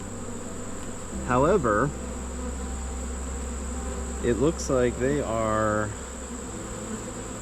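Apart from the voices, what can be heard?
honey bees buzzing in hive during beekeeping inspection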